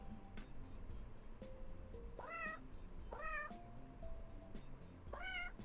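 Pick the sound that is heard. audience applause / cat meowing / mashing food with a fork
cat meowing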